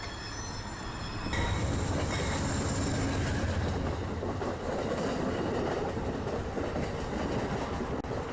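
A passenger train, Metra or Amtrak around Chicago, rolls past with a loud, steady roar of wheels on rail, rhythmic clatter and a faint squeal, close by and continuous with no talk.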